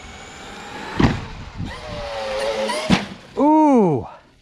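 A Traxxas XRT RC truck runs toward a ramp with a few sharp thumps, then lets out a loud rising-and-falling motor whine as it leaves the ramp, near and clear.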